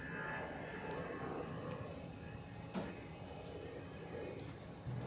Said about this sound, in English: Brussels Airlines is moving on the runway for departure.